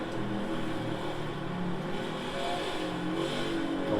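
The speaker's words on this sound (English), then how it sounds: "it's heavy braking into this bottleneck corner" A race car in a NASCAR video game brakes heavily into a tight corner on a road course, its engine drone and shifting revs running steadily and loudly throughout.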